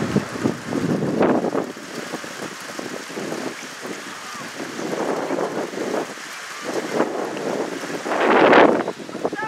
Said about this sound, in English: it's a driving 20-mile-an-hour rainstorm right now